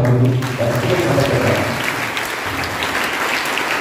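A church congregation at a Catholic Holy Mass bursts into loud, dense applause that sustains for a few seconds, with a voice briefly audible at the start.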